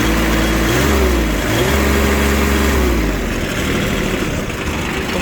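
A Shibaura SP1540 Japanese tractor engine revved with the hand throttle, a loud, close diesel drone climbing quickly in pitch, dipping and rising again, then holding a steady high idle.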